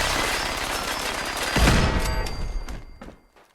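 Machine gun turrets fire in Fallout 4, a dense rattling stream of rapid shots that ends in a heavier thump and fading clatter, loud and close throughout.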